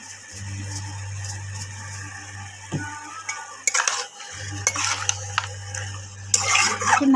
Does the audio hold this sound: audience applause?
no